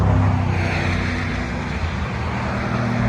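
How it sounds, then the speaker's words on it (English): Steady, loud roar of road traffic passing close by, a continuous low engine and tire rumble with no gaps, heard near a stopped high-mileage car awaiting a fuel pressure regulator and fuel rail repair. "I'm waiting for these cars to go by"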